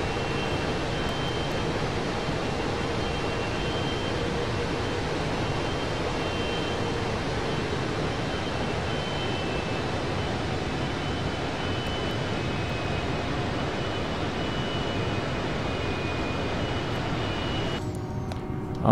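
A widebody airliner taxiing to the runway in the Prepar3D flight simulator, heard as a continuous steady engine roar and broadband hum with no speech, cutting off abruptly near the end.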